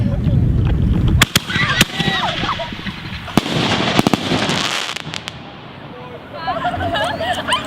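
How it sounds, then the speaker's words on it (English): Fireworks and firecrackers go off outdoors in loud sharp bangs and crackling bursts, with people chattering in the background between blasts. "Just light the fireworks."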